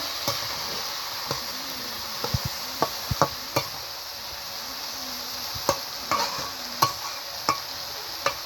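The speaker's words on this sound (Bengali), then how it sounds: "এবার মাছের তেলটা দিয়ে দেবো, দিয়ে নেড়ে চেড়ে নাড়াচাড়া" A spatula stirs rohu fish curry with potato and brinjal in a pan of oil, producing faint steady sizzling with a dozen sharp, irregular scrapes and taps close by.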